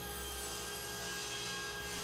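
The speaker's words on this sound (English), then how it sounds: "Finally, I can set my stop to reference the shoulder and cut the legs to length." Workbench legs cut to length with a saw during a Roubo workbench build; a steady, dense grinding roar runs continuously at moderate level, with no speech.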